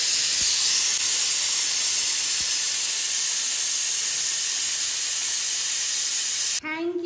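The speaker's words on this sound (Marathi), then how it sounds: "कुकरने मला शिट्टी वाजवली पप्पा" A pressure cooker whistle blows steadily on a kitchen stove, a loud continuous hissing steam jet that runs for several seconds and then cuts off abruptly near the end.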